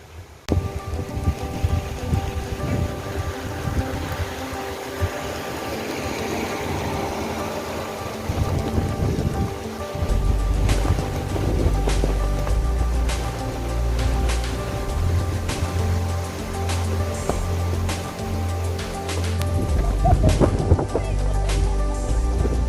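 Heavy rain from an approaching typhoon pours steadily in pine-wooded Tagaytay, a dense close hiss over deep low rumbling that keeps on throughout with no voices.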